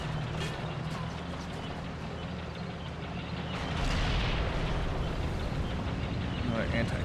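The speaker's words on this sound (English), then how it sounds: "Another anti-tank gun." Booming anti-tank gun fire in the video game The Outfit, heavy and rumbling, layered with explosions and a dense battle din that swells midway, with a voice talking over it.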